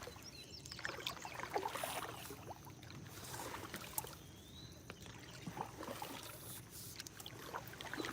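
Kayak paddle strokes dipping into water during carp fishing, soft rhythmic splashes and trickling drips repeating at an even pace, quiet and close with no talking.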